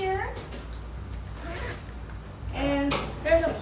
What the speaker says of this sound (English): And there's a zipper right here.